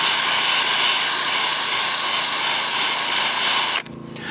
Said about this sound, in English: take it on the drill and just rub it into the pile like so.